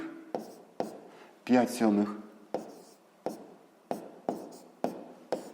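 A pen scratches steadily on paper as numbers are written out for a sixth-grade maths exercise, with regular short strokes and a brief spoken remark partway through.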